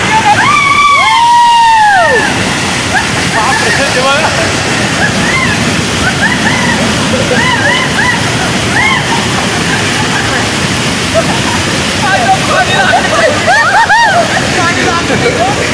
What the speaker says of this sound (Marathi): एवढा फ्लो आहे पाण्याला